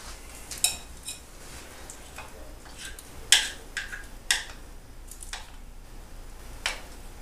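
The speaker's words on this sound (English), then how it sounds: "we're just going to go ahead and scoop this into our pan on top of our chocolate" Spoon scraping and clinking against a pan while peanut butter fudge is scooped on top of a chocolate layer, a few sharp metallic taps spaced irregularly over soft, sticky background noise.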